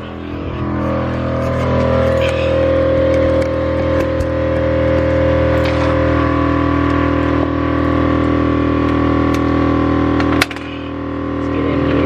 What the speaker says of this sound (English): All right, let's go ahead and fire up the compressor.